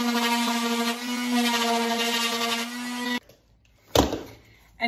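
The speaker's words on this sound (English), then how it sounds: "Now we're going to get the sander, smooth it down" Steady close whine of a power sander smoothing a handmade wooden boomerang for about three seconds, then stopping, followed by a brief knock and faint handling sounds.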